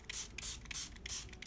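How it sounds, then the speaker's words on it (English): Water is misted from a spray bottle over gessoed mixed-media collage artwork in a quick series of short, hissing bursts, close and loud, with no talking. "The next step is to spray it all over with water"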